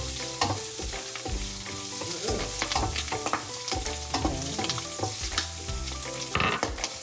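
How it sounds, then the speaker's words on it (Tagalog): Garlic and onion sautéing in a pan beside cooking pork belly, a steady loud sizzle with frequent scraping and clinking stirs of a utensil against the pan. "binigisa ko ng bawang sibuyas dito sa kabilang pedero"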